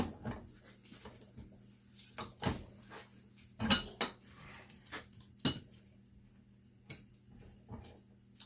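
Brass ball valve pulled off a #1 steel pipe while sorting scrap metal, giving a few sharp metallic clinks and clatters spaced apart against a quiet background.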